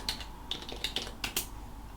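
Typing on a computer keyboard, a handful of sharp, quiet key clicks in an uneven rhythm, close and alone.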